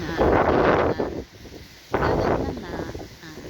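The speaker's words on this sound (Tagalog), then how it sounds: "Parang hangin na." Wind buffeting a handheld phone microphone by the sea in clear weather during a fiesta, loud roaring gusts in two bursts with a quieter lull between, voices talking faintly underneath.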